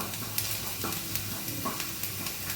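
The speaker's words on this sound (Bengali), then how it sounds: "আমি 6-7টা রসুন কুচো করে নিয়েছি, 2-3টে স্লাইস আদাকে কুচো করে নিয়েছি ভালো করে, দিয়ে এটাকে একটু গোল্ডেন ব্রাউন পর্যন্ত ফ্রাই করব।" Chopped garlic and ginger fry in hot oil with a steady soft sizzle, punctuated by a few light scrapes and stirring clicks of a spoon against the pan, fairly quiet and close.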